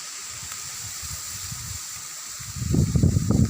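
Light drizzling rain falls outdoors after a heavy downpour, a steady soft broadband hiss that thickens into louder, denser patter near the end, with no voices.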